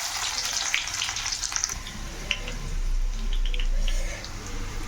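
Onion sizzles in hot oil with cumin for a vegetable tempering, a steady close crackle and hiss with bright pops; a low rumble swells midway.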